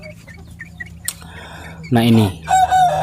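Chickens in a coop cluck while a rooster's crow rises loudly near the end. A quiet voice speaks briefly first, over a low steady hum.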